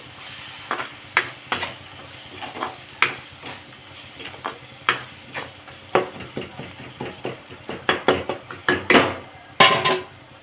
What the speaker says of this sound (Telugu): కొంచెం పసుపు వేసుకొని ఒకసారి కొంచెం మిక్స్ చేసుకొని